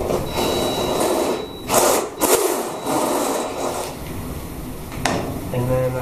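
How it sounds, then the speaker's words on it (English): Unibit step drill enlarging a hole to 3/8 inch in sheet metal for a Camaro firewall, a loud continuous whirring drone with slight rises and dips, in a shop setting. "I'll take my unibit and I'll step the hole size up to 3/8."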